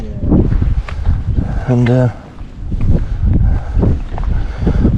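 Wind gusting across high open moorland on a hike, a steady low rushing roar buffeting the microphone throughout, with people talking over it and a brief tonal whine midway.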